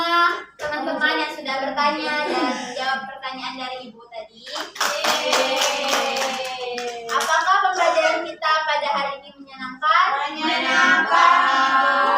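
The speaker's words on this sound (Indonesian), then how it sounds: "Tepuk tangan untuk semua" Schoolchildren in a classroom clap their hands in a rhythmic group routine, sharp bursts of clapping mixed with their chanting voices, close and lively.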